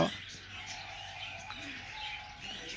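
Bird calls in a busy aviary holding a macaw and pigeons, with thin chirps and faint coos over steady background hum and murmur, loud and close.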